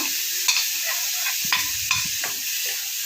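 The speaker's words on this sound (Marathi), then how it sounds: "मस्त असा मसाल्याचा वास येतो आता छान तेलामध्ये असा परतून घ्यायचं" Ground spice paste frying in oil, a continuous close sizzle with a few sharp clicks and scrapes of a stirring spoon against the pan scattered through.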